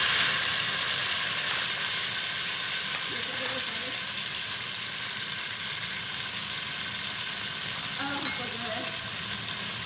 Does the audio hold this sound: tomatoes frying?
yes